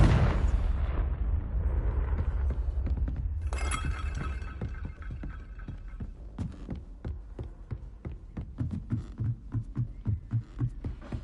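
The Confringo fire spell is cast in the video game Hogwarts Legacy: a loud roaring blast surges up, then settles into a rumbling, crackling burn with rapid thuds and pops.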